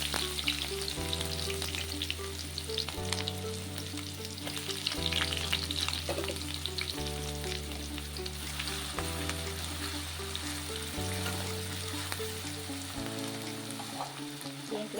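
Pieces of garlic, ginger, green chili and onion frying in hot oil, giving a strong continuous sizzle over a repeating backing music track, with no speech.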